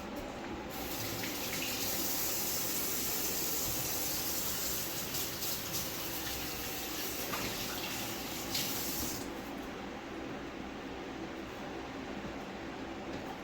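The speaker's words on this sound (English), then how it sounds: "let me rinse my hands" Running tap water pouring steadily into a sink while hands are rinsed underneath, a continuous close splashing rush that eases slightly toward the end, during chicken noodle soup preparation.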